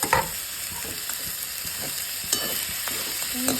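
Cut potatoes and chopped coriander are stirred in a hot pan for a spicy potato bhaji, with soft scraping strokes and light sizzling heard alone and close, a few sharper clinks of the spoon punctuating the steady frying hiss.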